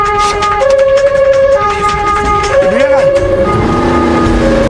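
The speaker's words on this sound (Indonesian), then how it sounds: "Mengingat mobil ambulan adalah salah satu pengguna jalan yang diprioritaskan, sehingga mereka berdua memanfaatkan dengan membunyikan sirine." A loud ambulance siren wails close by, its pitch sliding up and down over steady traffic noise.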